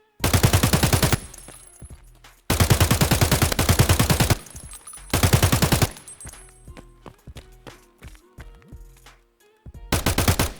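An AK-74N rifle fires in Escape From Tarkov in four long full-auto bursts, each loud and rapid, separated by quieter stretches with footsteps and faint clicks.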